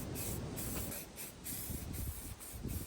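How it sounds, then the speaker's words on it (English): Primer sprayed from a can onto the wheel well of a Chevy K10 pickup, a hissing spray in several short bursts with brief pauses between, close and fairly quiet. "Let me just finish up painting this wheel well."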